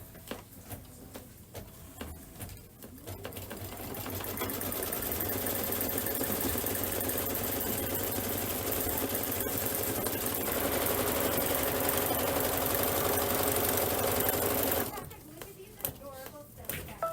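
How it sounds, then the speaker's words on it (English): A Kimberbell embroidery sewing machine stitches out part of a paisley belt bag, its rapid needle chatter starting after some handling noises, running loud and steady for about ten seconds, then stopping. "I'm going to go ahead and sew out the first portion"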